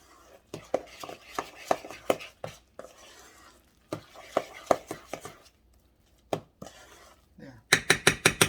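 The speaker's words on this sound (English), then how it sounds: "So I'm mixing it right here." Hot water cornbread dough is stirred by hand in a bowl, making repeated close, rhythmic scraping strokes in uneven bursts that speed into a quick run of beats at the end.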